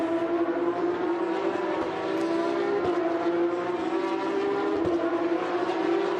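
Porsche Carrera Cup race cars at the Hockenheim circuit roar continuously, with steady engine tones and a few sharper gear-change bursts and passes. No speech is heard.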